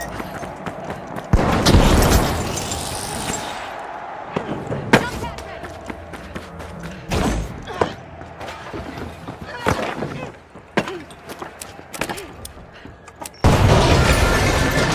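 Grenade explosions and other combat blasts from the video game The Finals, with heavy booms and sharp bangs scattered through a busy, continuous mix of game sound and announcer-style voices.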